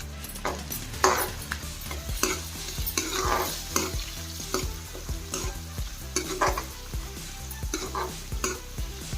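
Curry leaves and dried red chillies fry in hot oil with a steady close sizzle, broken by repeated stirring scrapes in a rhythmic pattern, with no talking.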